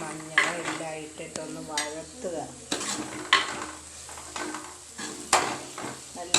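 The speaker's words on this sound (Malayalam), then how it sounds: "നല്ലോണം വഴറ്റിയെടുക്കുക" Onions, green chillies, tomato, garlic, ginger and spice powders being sautéed for a prawn curry, a near sizzle punctuated by repeated rhythmic metal clanks of a spoon against the pot, with brief voiced sounds in between.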